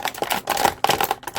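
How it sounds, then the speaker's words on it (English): Crinkly plastic packaging from a Hasbro Marvel Legends Deadpool figure crackles up close in a brief flurry of sharp, dry snaps and rustles. "Hasbro, can you make a more noisy plastic for the packaging?"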